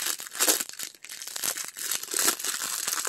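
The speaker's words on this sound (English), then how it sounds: "I think this has just been taped down really in a major way, so I think we're going to have to use the scissors" Someone opens a heavily taped package by hand, with close, busy crinkling, tearing and crumpling of tape and packaging in quick irregular bursts and no talking.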